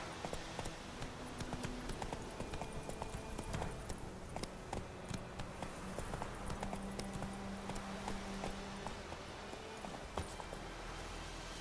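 Roach, the horse in The Witcher 3, clip-clops along in a steady, even trot, hooves ticking at a regular pace over quiet background ambience for the whole stretch, with no voices.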